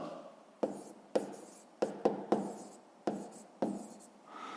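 A pen writes out a fifth-grade math solution on paper, with close, scratchy strokes in about seven distinct bursts separated by short pauses.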